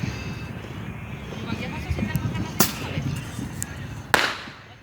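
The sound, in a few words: smoke bombs and small rockets being set off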